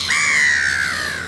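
A single seagull in Hamburg gives one loud, drawn-out squawk at close range that slides slightly downward, with a quiet outdoor background.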